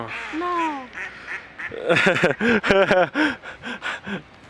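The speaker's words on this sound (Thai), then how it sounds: "แล้วก็มาดูเป็ดนะครับ เป็ดเล่นน้ำนะครับผม" Ducks on a lake quack loudly in a burst of rapid, honking calls, preceded by a few softer calls, close by and outdoors.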